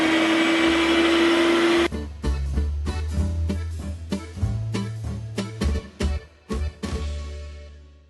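An electric sausage-stuffing machine fills homemade sausages with a loud motor whine. The motor stops and restarts in a series of short bursts, and it runs alone with no talk.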